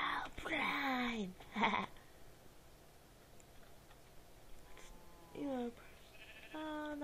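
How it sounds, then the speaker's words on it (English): Sheep in the Minecraft video game bleat in short wavering calls, a pair early on and more near the end, close and clear, with a player speaking in between. "That's a sheep."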